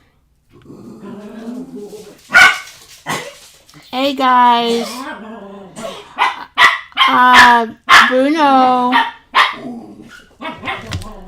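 Dogs bark and yelp in a home, a few sharp bursts mixed with drawn-out, whining, howl-like vocalizations, while a person calls out loudly over them.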